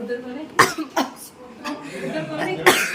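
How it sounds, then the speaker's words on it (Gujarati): A person coughs sharply a few times up close, with breathy vocal noises and a slight chuckle between the bursts. "ઉધરસ આવે છે"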